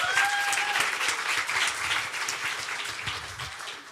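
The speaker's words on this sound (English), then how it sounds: "if we can all give them a round of applause" A fireside-chat audience at a diaspora education event gives a round of applause, a continuous, moderately loud wash of clapping that tapers slightly toward the end, with a brief voice or tone near the start.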